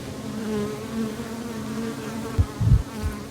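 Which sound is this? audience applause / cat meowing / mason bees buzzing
mason bees buzzing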